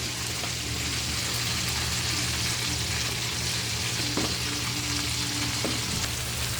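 Egg frying in a pan with cucumber and white onion, a dense steady sizzle and crackle with occasional faint utensil clicks, no talking.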